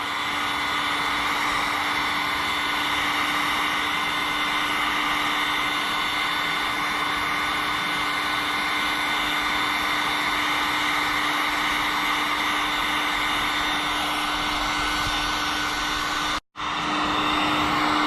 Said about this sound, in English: we're gonna start with the heat gun and just start heating this up.